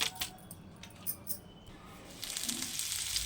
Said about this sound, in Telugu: బెండకాయ ఫ్రై చేస్తున్నానండి.